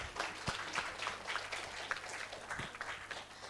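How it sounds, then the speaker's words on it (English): Audience applause at the official launch of a genomics and science learning platform, moderate scattered clapping from a small crowd, steady and fairly faint with no voices over it. "Give it applause again"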